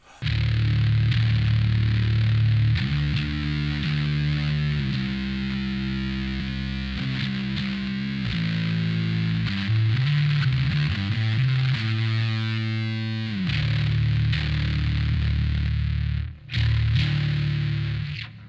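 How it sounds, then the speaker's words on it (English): Bass guitar through a distortion pedal, heavily distorted, playing a steady riff of sustained low notes, gritty and loud, with a few brief dropouts near the end. "I can add distortion on top"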